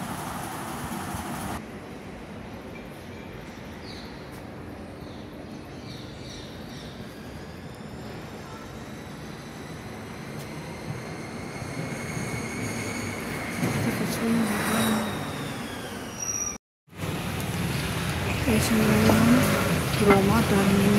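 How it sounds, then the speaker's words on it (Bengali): Trains rumble and squeal through Roma Termini railway station in Rome, with long drawn metallic tones over steady station noise and a louder surge of passing rail traffic near the end, amid background voices. "Roma टर्मिनी railway station"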